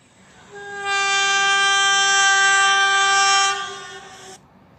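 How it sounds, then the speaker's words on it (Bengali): Train arriving with a sharp, piercing whistle, a single sustained high harmonic blast that swells in, holds loudly for about three seconds, then cuts off, heard alone over faint low rumble. "তীক্ষ্ণ হুইসেল দিতে দিতে ট্রেন এলো"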